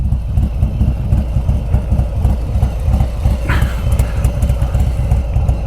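A 2021 Harley-Davidson Street Bob FXBBS motorcycle idles nearby outdoors, a loud, steady low loping rumble with a regular pulsing beat throughout and no voices.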